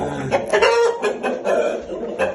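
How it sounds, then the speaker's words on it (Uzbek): Chickens and chicks cluck and chortle close by in a busy cluster of short, overlapping calls, with a flurry of brief notes spread across a couple of seconds. "Mana jo'jalar."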